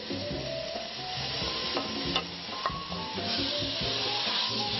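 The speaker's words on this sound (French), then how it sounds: "Je vais ajouter le bœuf pour qu'il s'imprègne de tous les arômes de l'oignon et de l'ail. Je le fais dorer à peu près une petite minute." Beef browning in a hot pan with onion and garlic gives a steady close sizzle throughout, broken by scraping stirs and a few sharp clicks of a utensil against the pan.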